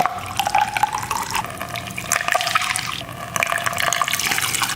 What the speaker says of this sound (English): we'll fill up each cell with our Epsom salt and distilled water solution